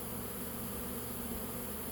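A swarm of honeybees outdoors in late March gives off a steady, even buzzing hum, faint and continuous, with no voices.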